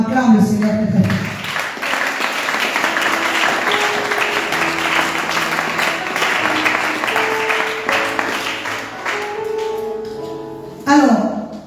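Sustained applause and cheering from a church congregation during a lively worship service, a loud dense wash of clapping under music that fades near the end before a short burst returns.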